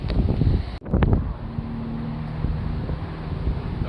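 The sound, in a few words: wind gusts blowing outdoors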